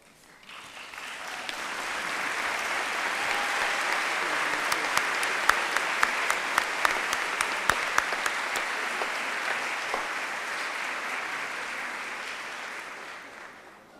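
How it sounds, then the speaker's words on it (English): A large audience at a 2019 South Windsor High School graduation ceremony applauds in a steady, dense wash of clapping that lasts the whole stretch, with a few sharper claps standing out and no speech over it. "Graduates, please stand and join me in a round of applause for these special people."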